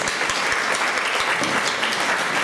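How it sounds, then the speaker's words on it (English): Audience applause for the judges at a London TV station presenting and broadcasting event, a dense, steady wash of clapping that fills the whole moment without a break. "give them a round of applause"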